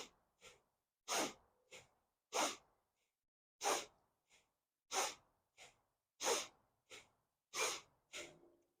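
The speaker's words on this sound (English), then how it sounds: "we're gonna come back to doing bellows breath or bhastrika" Bellows breath (bhastrika) pranayama, forceful rhythmic nasal inhales and exhales close to the ear, about a dozen sharp bursts in quick succession with brief silent gaps, no talking.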